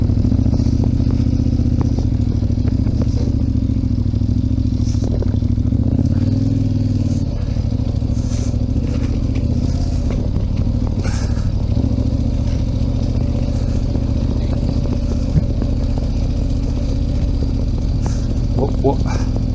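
KTM 1290 Super Adventure R adventure motorcycles ride off-road at an enduro event, a steady loud engine drone with rattling clatter running throughout, while people talk over it.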